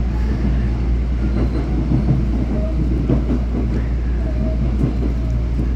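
A train pulls into a station in a Japanese village, its steady rumble and faint rail clatter continuous and close.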